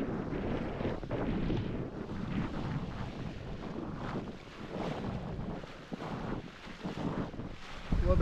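Wind gusting over a sailboat at sea on a passage from Brazil to French Guiana, a loud continuous rushing roar with swelling gusts and water noise, no speech.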